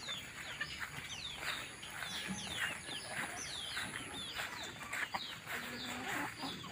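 Chickens in coops on a farm, Rhode Island Reds among them, clucking and calling steadily throughout, with chirping birds and a busy layered flock texture close by.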